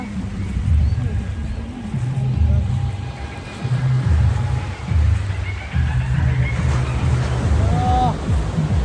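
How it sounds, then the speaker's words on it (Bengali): Sea waves surge and wash onto the shore in repeated swells, close and fairly loud, with wind noise and voices talking over them. "ঢেউ দেখো।"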